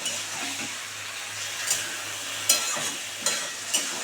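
Boiled black taro leaves being stirred in a pan: a soft, steady sizzle with occasional scraping clicks of the spatula against the pan, fairly quiet and close, with no one talking.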